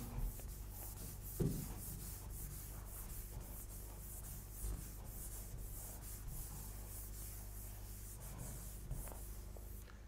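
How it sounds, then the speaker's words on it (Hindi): Brisk eraser rubbing over written figures on paper, a soft scratchy friction with a few sharper strokes, close and fairly quiet, heard alone without talk. "ये मैं रब कर देता हूं"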